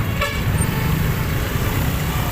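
Heavy traffic on Payatas Road, with a short car horn toot near the start over a dense, continuous rumble of engines close by.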